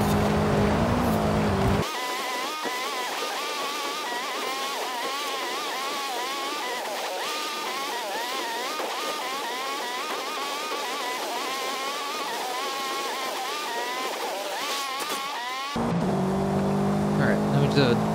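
A Myers Manx races off-road in Forza Horizon 5, its engine droning steadily at high revs and rising and falling in pitch with gear shifts. Louder game noise opens and closes the stretch.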